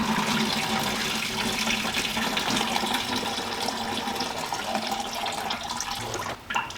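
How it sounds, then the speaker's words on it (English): Coolant pouring steadily out of a Toyota 4Runner's 3VZE engine with a blown head gasket, a continuous loud splashing gush of liquid that runs unbroken for several seconds before briefly faltering near the end. "we're gonna drain this coolant or whatever"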